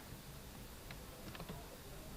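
Typing on a computer keyboard during a PowerPoint editing session: a few soft, faint key taps in a small cluster, close but quiet against a steady background hiss.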